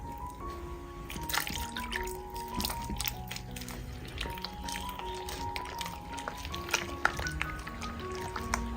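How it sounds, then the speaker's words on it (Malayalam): Water trickles and drips into dosa batter in a bowl with soft, splashy patters and small liquid sounds, fairly quiet and close. "വീണ്ടും വെള്ളം ഒഴിച്ചു കൊടുക്കുക."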